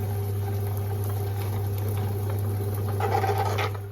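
A wet grinder churning millet, fenugreek and urad dal into batter gives a steady low mechanical hum with a soft wet slosh on top, constant and close, growing a little busier near the end.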